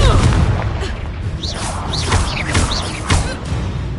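A Confringo blasting spell explodes in a Hogwarts Legacy game fight, a dense booming crash with swooshing magic effects layered over it, loud and close throughout.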